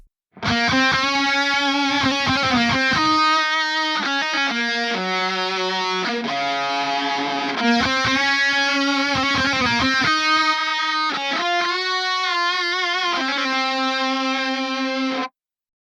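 Double-tracked distorted electric lead guitars panned left and right play a sustained harmony melody together, loud and continuous with bends and held notes, no voices.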